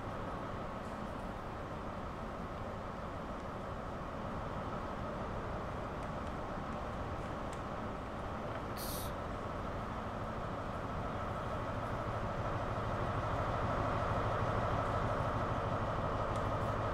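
A high-speed train runs on the Bakerloo line in the Train Sim World 2 video game, giving a steady, continuous rumble and rolling drone that swells slightly toward the end, with no voices.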